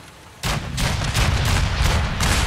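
Broadsider cannon in Fallout 4 firing cannonballs, a sudden loud blast after a quiet start, followed by a sustained roar of repeated booming shots rolling on with no break.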